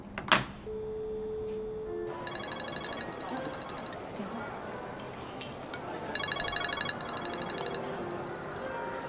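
A mobile phone rings with a repeating electronic ringtone in bursts, heard at moderate level over steady room noise, with no speech.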